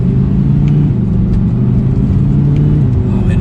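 2020 Audi R8 V10 coupe accelerating in dynamic mode, a deep steady engine rumble with a droning mid-range tone heard loud from inside the car.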